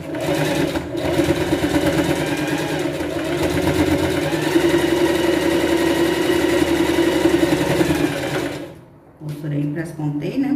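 A sewing machine stitches around the side panel of a pet backpack in one continuous loud run of rapid stitching, then stops abruptly near the end.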